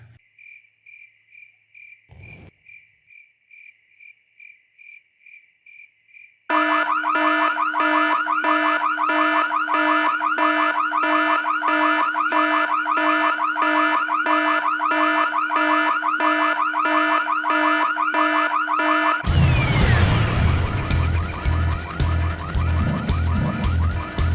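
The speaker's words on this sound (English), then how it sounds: "Well, who set off the alarm, Floyd?" A car alarm in the Full Throttle video game sounds as a loud, steady, rapidly pulsing electronic tone that runs for many seconds after a quiet chirping, insect-like opening, then gives way to a harsher burst of noise near the end.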